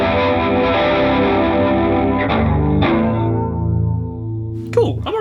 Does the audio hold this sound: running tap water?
no